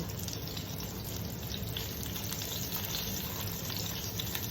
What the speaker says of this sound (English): you can hear that meat sizzling in there